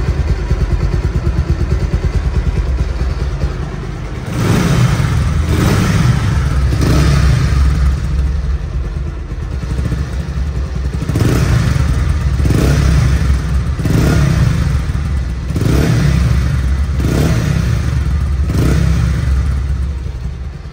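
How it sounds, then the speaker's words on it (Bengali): A 2019 Bajaj Pulsar motorcycle engine in showroom condition with about 7,000 km, idling close by with a loud steady rumble and repeated throttle revs rising and falling in regular bursts, no talking. "সাউন্ডটাও কিন্তু একদম শোরুম কন্ডিশন সাউন্ডই আছে, পালসার পালসারই"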